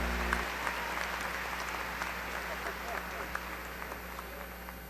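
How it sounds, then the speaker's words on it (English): Graduates at a university spring commencement ceremony receive steady, sustained crowd applause that holds at an even level throughout, with a faint hum underneath. "Please honor these graduates with a round of applause."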